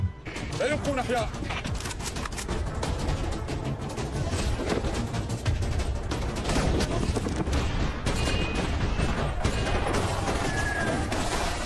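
Gunfire rings out in a war-film scene from Sniper as marksmen shoot Iranian troops' hostages, with dense bursts and booms running throughout under a steady bed of dialogue and score.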